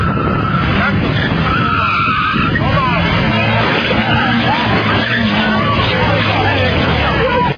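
A car at a Miss Tuning competition skids at full speed in a steady, loud tire-scraping roar that lasts several seconds, with crowd babble throughout.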